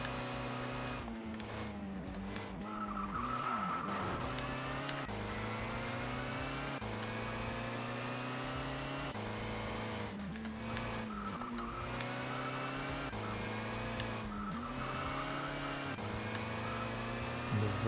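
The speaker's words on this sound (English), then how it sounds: "The virtual V8 supercar." A virtual V8 supercar in ToCA World Touring Cars drones on steadily at high revs with layered harmonic engine tones, brief gear-change dips and intermittent tyre squeal, loud and continuous throughout.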